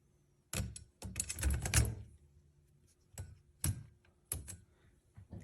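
A Smith Premier No. 2 typewriter mechanism gives loud, close clacks and rattles: a quick burst of keystrikes followed by a longer clattering run, then several separate, sharp single strikes with pauses between them.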